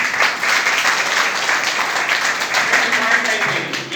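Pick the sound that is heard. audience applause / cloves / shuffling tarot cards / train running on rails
audience applause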